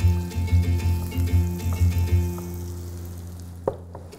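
Garlic sizzles in melted butter in a pan for a potato baby-food recipe, with a rhythmic series of pulses over a steady hum that settles into a quieter, even frying hiss.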